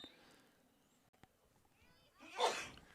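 A single sharp sneeze bursts out near the end of the clip, close and fairly loud, during a girls' high school soccer match between Taylor County and Southwestern, with a faint crowd murmur underneath.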